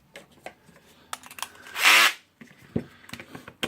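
A screw is worked out of the back cover of a Makita 9565CVR 1400W 125 mm angle grinder, with scattered close handling clicks and taps around one short rasping whir of a driver.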